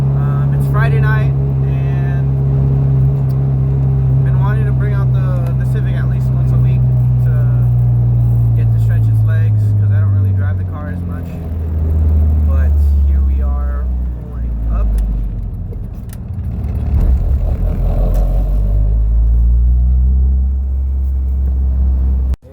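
Engine rumble and road noise from a 2003 Toyota Tacoma pickup driving slowly through a neighborhood and pulling up, a steady low drone that eases as it slows, with people talking over it.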